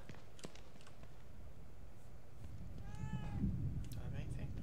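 A cat in the horror game The Evil Within 2 lets out a short rising meow over a low, steady game ambience, heard once in the middle of the moment with no talking.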